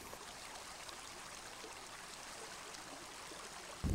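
Olema Creek's John West Fork runs through a riparian exclusion zone, a steady broadband rush and trickle of flowing water heard alone and evenly throughout, with a sudden louder low thump at the very end.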